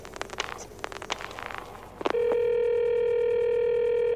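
In a radio drama, a few soft clicks give way to a steady, buzzing telephone ring tone on the line that holds unbroken for about two seconds before cutting off.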